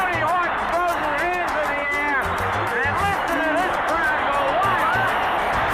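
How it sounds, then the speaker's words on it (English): Baseball stadium crowd at a Cardinals versus Cubs game, a broad continuous roar of cheering with whoops and whistles rising throughout, while commentators talk over it. "listen to this crowd go wild"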